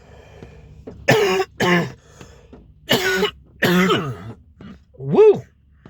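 A man with a nagging cough of several days coughs and clears his throat in a few close, rough, voiced bursts, with short pauses between them and a rising vocal 'woo' at the end.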